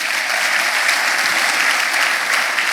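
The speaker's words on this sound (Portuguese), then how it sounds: "aplaudo o Senhor" Congregation applauding in a church during a sermon on faithfulness and miracles, a steady dense wash of clapping filling the room at full volume for the whole stretch, with no talk over it.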